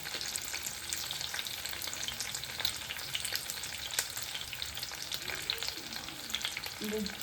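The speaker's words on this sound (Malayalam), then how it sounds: "കറിവേപ്പില ഇട്ടിട്ട് ഒന്ന് മിക്സ് ആക്കാം കേട്ടോ. ഇങ്ങനെ ഈ സൗണ്ട് കേൾക്കാൻ നല്ല രസമാണല്ലേ?" Curry leaves and chopped green chillies fry in a hot pan, giving a dense, continuous sizzle with sharp crackles and pops throughout.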